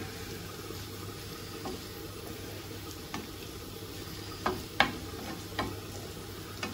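Shredded white cabbage and egg frying in a pan, with a steady low sizzle and occasional sharp clicks and scrapes of stirring, close and fairly quiet, no talking.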